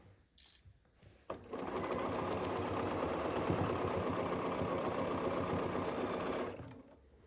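A sewing machine runs a continuous burst of stitching on a quilted Christmas stocking seam, starting after a short pause and a click, then stopping after about five seconds, close and steady with no talking.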